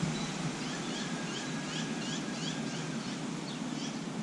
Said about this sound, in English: Birds, the wind chime,